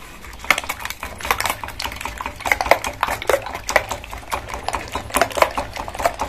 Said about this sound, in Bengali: ডিমের মধ্যে পেঁয়াজগুলো দিয়ে দিতে হবে, পেঁয়াজ লঙ্কাগুলো দিয়ে, নুন দিয়ে এটাকে মিক্স করে নিতে হবে।